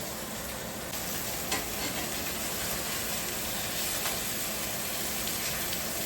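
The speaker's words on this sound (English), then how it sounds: "saute up the onions in some butter" Onions sautéing in butter in a hot cast iron pan, a steady close sizzle and hiss running continuously with faint occasional crackles, no talk.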